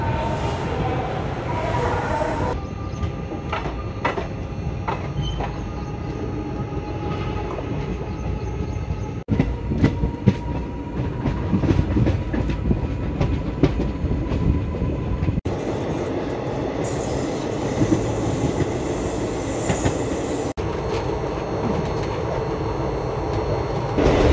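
The Amravati Express train, number 18047 from Kolkata to Goa, rumbles steadily along the rails, heard from inside a coach with a continuous loud clatter and occasional sharp clicks of the wheels.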